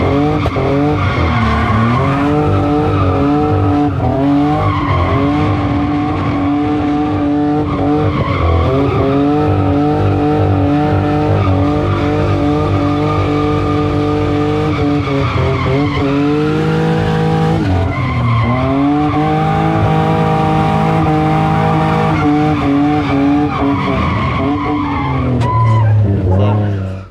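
A Toyota TE72 with a BMW M52B28 engine swapped in, being drifted, with loud continuous engine wail and shifting tire squeal holding for the whole stretch, close and unbroken, with voices faintly under it.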